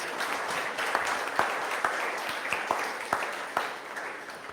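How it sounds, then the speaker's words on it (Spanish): A church congregation claps through a sermon, a steady wash of applause from many hands with sharper individual claps standing out at a regular beat, moderately close and fairly quiet, with no talk over it. "Dale una ofrenda de palmas al Rey de Reyes, Señor de Señores"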